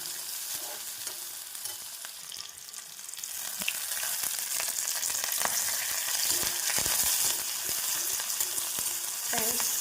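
Steady loud sizzling of curry leaves and green chilies frying in hot oil, crackling and popping that grows more intense after a few seconds.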